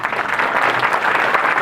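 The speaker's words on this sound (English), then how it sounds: "So we should give them a round of applause." Temple audience applauding volunteers, a thick continuous roar of many hands clapping together, steady and full for the whole short stretch with no voices on top.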